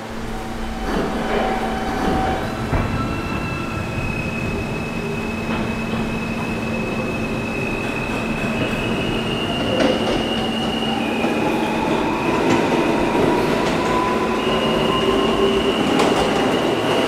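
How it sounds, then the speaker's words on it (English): Ride aboard a New York D subway train between stations: continuous rumbling wheels and clatter, with drawn-out metallic squeals and whines rising and falling over the noise, heard from inside the car. "This is a Rentar Plaza bound D train."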